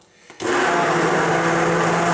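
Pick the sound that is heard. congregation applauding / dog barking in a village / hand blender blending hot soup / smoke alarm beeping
hand blender blending hot soup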